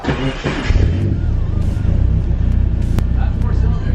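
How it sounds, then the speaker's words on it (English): A car engine running on three cylinders idles roughly and unevenly up close, with a lumpy, stumbling rumble; a voice talks over it at the start. "we just started the car on 3 cylinders"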